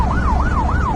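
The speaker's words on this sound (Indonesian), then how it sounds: "Where did that ambulance come from?" An ambulance siren wails in a steady rising-and-falling cycle, loud and close, with traffic rumble underneath and no voices.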